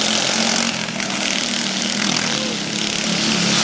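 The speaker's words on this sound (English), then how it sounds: "No muffler, we're letting it go, but it is against the rules. Here's a header." Dirt kart engine fitted with a header and no muffler, running flat out in a continuous loud, raspy drone at a dirt kart track race, steady throughout with no talk.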